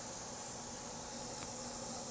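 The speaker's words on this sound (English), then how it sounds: "So you see I'm not fanning the gun, I'm actually moving the whole gun now." A compressed-air spray gun sprays plating paint in a continuous, even hiss that stays steady and close for the full length, with no talking over it.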